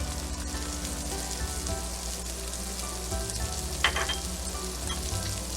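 Shrimp pasta sauce ingredients sautéing in a pan give off a steady, dense sizzle, with one brief sharper crackle near the end.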